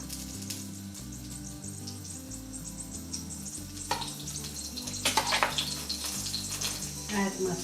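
Ghee heating and sizzling in a pan for an Indian dal tadka, a steady frying crackle under a low background hum, with sharper spattering bursts toward the end.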